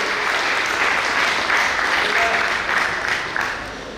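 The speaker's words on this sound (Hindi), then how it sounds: "जोरदार तालियों के साथ में आप अभिवादन करें।" An audience at a yoga group event applauds loudly with dense, sustained clapping that holds steady for several seconds and then begins to taper off.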